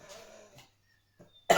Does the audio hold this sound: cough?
yes